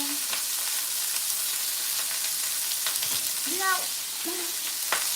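Beef patties fry in a hot, greasy pan with a steady sizzle, and a voice briefly speaks over it.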